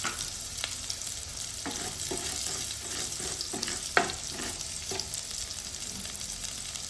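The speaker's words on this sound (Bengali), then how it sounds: "এগুলো নেড়ে চেড়ে আমি ভেজে নেব।" Black cumin seeds fry in hot oil in a pan, a steady close sizzle broken by repeated scraping and clinking of a spoon as they are stirred.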